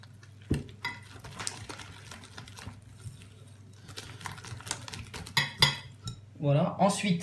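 A utensil clinks and scrapes against a bowl while galette des rois batter is stirred with egg, irregular close taps and knocks with a louder clatter near the end.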